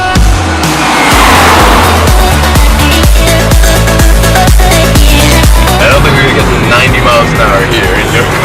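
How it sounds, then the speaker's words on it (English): A turbocharged sports car is driven hard on a road, its engine roaring loud and close while the tires squeal and skid in repeated bursts, with voices talking over the noise. "we're gonna film Szymon's car, the turbo"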